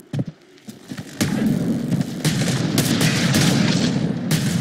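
Gunfire in Mass Effect Andromeda: a few sharp opening shots, then a sustained clatter of rapid weapon fire and impacts that stays loud and busy throughout.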